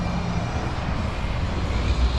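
A Harley-Davidson Road King motorcycle engine runs with a dense, constant roar that stays loud and steady throughout, with no voices.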